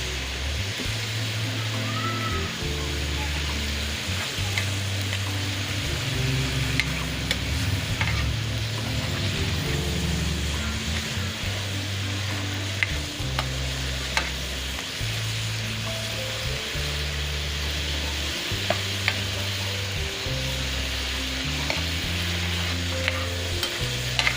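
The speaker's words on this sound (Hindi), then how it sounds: "कीमा शामिल किया कि मैं इस फ्राई कर रही हूँ" Minced meat sizzling and crackling steadily in hot oil, with repeated stirring scrapes throughout; close and continuous, no talking.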